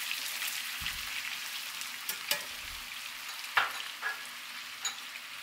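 Salmon sears in melted butter in a pan, a soft continuous sizzle broken by several sharp spatters and light clicks of a utensil scattered throughout.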